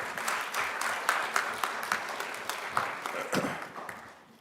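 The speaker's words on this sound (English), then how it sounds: "Give him a round of applause, you all." Audience at an MLK celebration applauding a young speaker, a brief round of clapping with distinct individual claps that tapers off over a few seconds.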